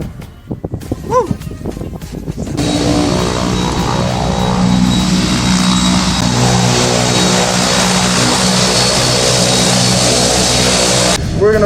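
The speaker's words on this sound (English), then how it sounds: "Plane's starting." A skydiving propeller airplane's engine starts up and then runs with a steady, loud, continuous drone that lasts until the end.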